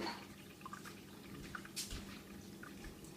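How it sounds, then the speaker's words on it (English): Water trickling and dripping from a K-cup coffee maker, faint soft drips and a light pour over a quiet background hum, heard alone. "There we hear the water."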